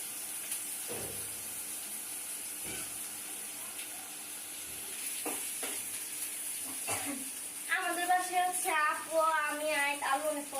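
A faint, steady sizzle of food frying in a pan, with a voice speaking over it toward the end.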